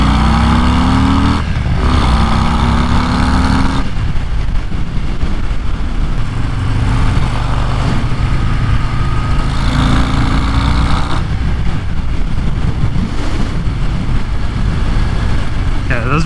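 A 2023 Harley-Davidson Breakout engine pulls hard under acceleration, a loud, continuous roar with steady wind rush, close and dominant throughout.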